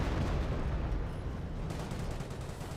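Priest self-propelled artillery barrage in Company of Heroes 1, a dense, continuous rumble of heavy booms and blasts that stays loud throughout, with no clear gaps between impacts.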